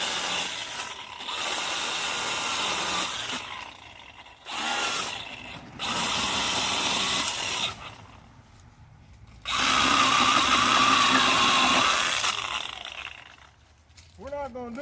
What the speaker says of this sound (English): We're just cutting a couple of forks off this tree where we can get that pole down out of there.